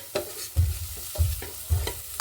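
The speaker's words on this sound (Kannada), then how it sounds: "ಇವಾಗ ಜೀರಿಗೆ ಹಾಕ್ಕೊಂಡಿದ್ದೀನಿ." Cumin seeds hit hot oil for tempering in a home kitchen, giving short bursts of sizzling and crackling in three or four pulses with brief quieter gaps, close and fairly loud, no talking.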